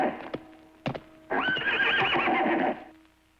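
A horse neighs loudly in a long, close whinny after a few sharp knocks, with hoof clip-clop at the start, in a scene from Rolf Kauka's animated fairy-tale series Once Upon A Time.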